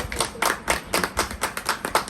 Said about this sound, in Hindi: हम सब जोरदार तालियों से